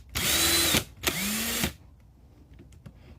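A power drill with a countersink bit drills into wood in two loud bursts, about a second each with a brief pause between, its motor pitch sliding as it bites, then quiet.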